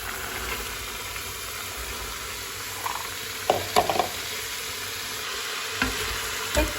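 Soaked, drained chickpeas hit a pan of frying tomato paste, giving a steady soft sizzle with a few scraping stirs of a spoon toward the end, close and moderately loud, no talk.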